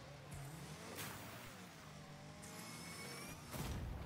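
Car engine revving in a racing video game, a steady motor drone with rising and falling whine tones running throughout, moderately loud with no talk.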